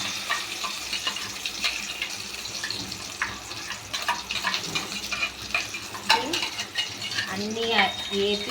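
A ground paste of fried tomato, onion and green chillies goes into hot oil for an egg curry, giving close, crackling sizzles and frying hiss with utensil clinks and stirring scrapes, while a voice talks briefly.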